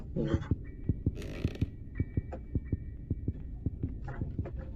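In the Granny horror video game, a heartbeat thumps in a steady, fairly quick rhythm, close and prominent, over a low hum with a few creaks and mechanical clicks and no talking.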